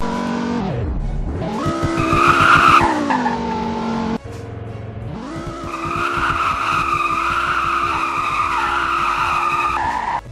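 Car tires skid and squeal in a driving video game as a third-gear clutch release at about 30 spins the wheels, a loud continuous screech over a high revving engine, briefly cut off midway then resuming steadily.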